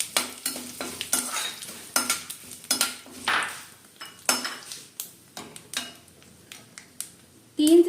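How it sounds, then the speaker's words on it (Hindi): Spices and curry leaves tempering in hot oil give a crackling sizzle under repeated metallic scrapes and clinks of a spoon stirring in a pan, irregular and close. "इसमें से तड़कने की आवाज आने लगी है"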